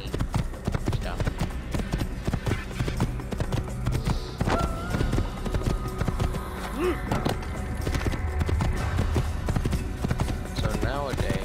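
Steady clip-clop of horse hooves at a walking pace in Assassin's Creed, mixed with game music and effects, with a voice talking over it.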